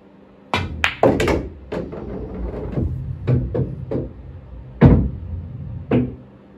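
Pool cue striking the cue ball low for a draw shot on a billiards table, heard as several sharp close knocks and thunks spread across the clip, including ball contacts, with no talking.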